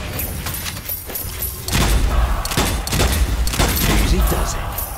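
Gunfire in the video game Strange Brigade, a dense fusillade of rapid shots and booming blasts that grows louder and heavier partway through, continuing steadily to the end.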